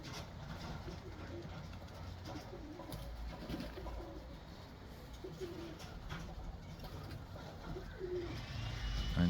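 Calm, placid birds coo softly in low, repeated calls over a faint rumbling background, fairly distant and quiet throughout.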